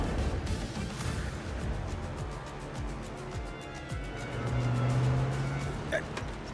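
A new-model car driving along, its engine giving a steady low rumble that swells slightly toward the end, with voices talking inside over the drone.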